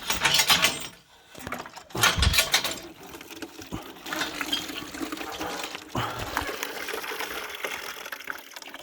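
Water gushes and splashes from an outback bore left behind by an old camp, a steady broadband rush with brief dips and bursts, close and fairly loud, with no voices.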